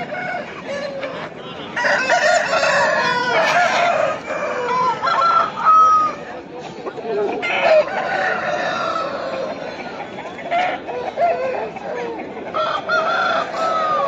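Several roosters crow loudly and repeatedly, overlapping one another amid clucking and general poultry noise at a poultry market in Pileru, close by and continuous throughout.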